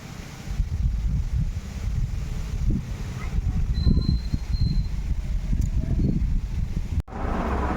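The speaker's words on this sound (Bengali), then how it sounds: "কি সুন্দর হাওয়া দিচ্ছে" Steady outdoor breeze rushing across the microphone, a continuous low rumble with soft gusts, and faint insect chirps in the background.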